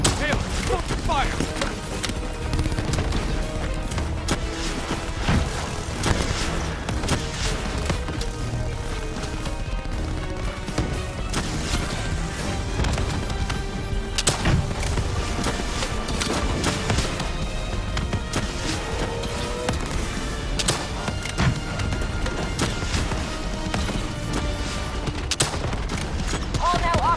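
Dense, continuous gunfire and explosions from a firefight in the video game Call of Duty Black Ops 3, loud and layered under a constant battle din, with voices talking over the shooting.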